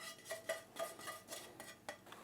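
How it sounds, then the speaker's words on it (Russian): A spoon stirs cooked buckwheat and fried onion in a bowl, producing a quiet series of scraping, clinking strokes in an irregular rhythm, close up with no talking. "Будем все замешивать."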